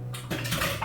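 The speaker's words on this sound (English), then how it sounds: "So I'm just going to put some of the utensils I don't need anymore away." Kitchen utensils being put away, a brief close metallic clatter of pieces knocking together.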